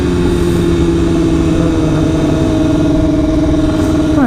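A 2016 BMW S1000RR Premium Package motorcycle engine drones steadily and loudly while riding, a continuous close hum with a rising tone near the end.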